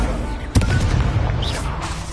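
An Incendio fire spell cast in Hogwarts Legacy bursts out as a sharp, loud whoosh-boom followed by a roaring, crackling flare of flame that sustains and fades over a couple of seconds amid other game effects.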